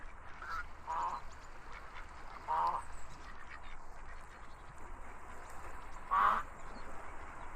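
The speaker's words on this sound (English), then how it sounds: "Stanley fed one of the ducks." Ducks in the video game The Stanley Parable give several separate quacks and honks over a quiet background, each call short and fairly close, with a louder one near the end.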